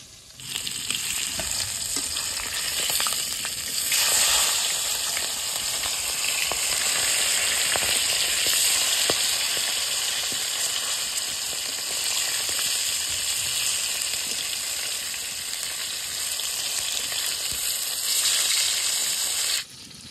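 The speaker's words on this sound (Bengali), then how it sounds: "মাছ ভাজা হয়ে গেছে, এবার তুলে নেবো" Katla fish frying in hot oil, a loud, steady hiss and crackle of sizzling that holds for about twenty seconds with occasional sharper pops and stirring noises, then cuts off abruptly.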